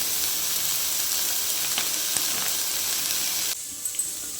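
Dried fish thokku frying in added oil, a steady loud sizzle and hiss with small crackles that drops abruptly quieter near the end, no voices.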